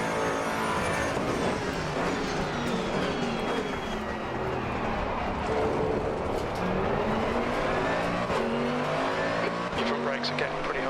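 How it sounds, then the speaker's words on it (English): A Mercedes-AMG GT2 race car in the racing game Assetto Corsa Competizione: a loud, continuous engine note rises and falls through gear changes, with brief tire squeal and the roar of other cars around it. "the AMG sounds amazing"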